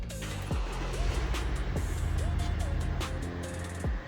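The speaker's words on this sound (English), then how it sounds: "This means that we should now be able to start the car." A Mercedes-Benz with a Delphi CRD3 ECU cranks and starts, its engine settling into a steady low idle with a few sharp clicks and knocks nearby, while faint speech-like sounds come and go.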